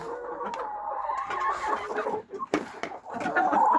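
Hens cluck in a farmyard, a busy overlapping chorus of close, continuous clucks with brief quieter gaps.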